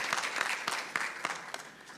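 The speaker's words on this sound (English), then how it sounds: "can we please give him a round of applause as he approaches" Audience applause at an International Data Privacy Day event as an advocate comes forward to join a panel, a steady patter of clapping with sharp individual claps standing out, moderately quiet throughout.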